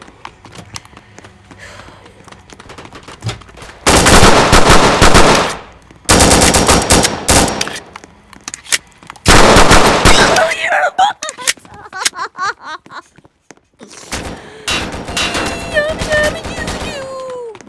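Rapid Glock 20 gunfire in a video game set in Chicago, coming in loud, dense bursts separated by short pauses, with quieter clicks and game sounds in between.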